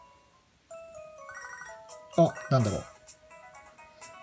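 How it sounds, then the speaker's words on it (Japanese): A phone rings inside Pokémon SoulSilver as a short repeating electronic chime, followed by a burst of game jingle, with a player speaking briefly over it. "なんだ今の電話は。"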